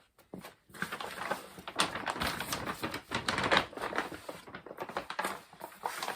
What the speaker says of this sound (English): when I fold this over, it should be pretty easy because it's right in the middle of the tape